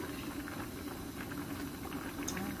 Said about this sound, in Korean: 잘 끓고 있죠?